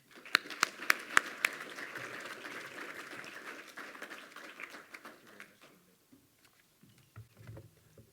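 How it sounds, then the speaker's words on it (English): Audience applause greets Mayor Brad West at a Surrey Board of Trade gathering: a fairly quiet wash of many hands clapping, with a few sharper claps early on, thinning out and fading after about five seconds. "So everyone, a round of applause for Mayor Brad West."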